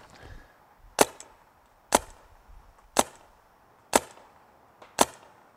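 A Smart Parts Enertia paintball marker fitted with an upgraded Shocker bolt fires five evenly spaced sharp pops about a second apart, each a crisp loud crack that quickly dies away, close up and with no talk.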